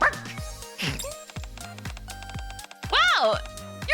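A voice imitates dog barking with a series of short yapping and whining sounds, close and loud, ending in a higher-pitched yelp.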